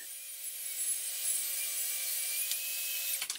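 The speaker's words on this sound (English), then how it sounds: "So I'm tipping the saw to 45 and a half degrees and I'm going to cut a long bevel" A track saw tilted to about 45 and a half degrees cuts a long bevel in white oak for floating shelves, a steady, fairly quiet motor whine that stops abruptly near the end.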